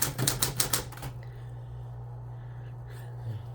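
A burst of rapid typewriter key strikes, about six sharp clacks in quick succession, close up, then a quiet room with a low steady hum and faint murmuring.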